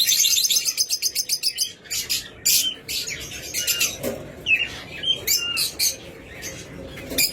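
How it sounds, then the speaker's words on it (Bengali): A pair of orange-head opaline pet birds chirps in quick rhythmic runs of bright tweets, close and clear, easing into scattered softer calls. "চমৎকার এই অরেঞ্জ হেড অপালাইন জোড়াটা"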